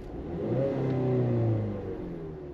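A Ford car engine with a P1450 EVAP fault is opened to wide open throttle, its tone climbing to a loud, steady rev before easing back down, heard alone and close.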